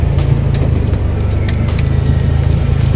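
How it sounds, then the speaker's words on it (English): A car engine drones loudly and steadily from inside the cabin, with road rumble and occasional clicks and rattles. "This is my first real turbo car I've driven."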